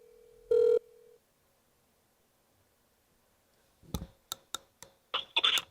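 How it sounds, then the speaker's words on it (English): A telephone is dialed to connect a podcast call: one short electronic tone sounds, followed after a quiet gap by a quick series of close keypad beeps and taps. "and we'll dial him up."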